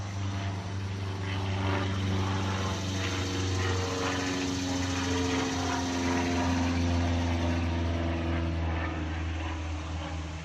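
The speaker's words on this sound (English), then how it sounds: "Now there's an airplane." Propeller-like aircraft drone passes low overhead, a loud sustained engine hum that swells and fades slowly across the whole stretch, with no talk.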